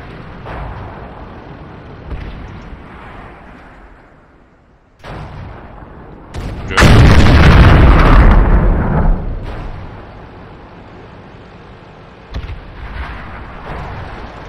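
A tank cannon fires in World of Tanks: a rumbling low boom about seven seconds in, loud for several seconds, among softer bursts and engine-like rumble, with no voices.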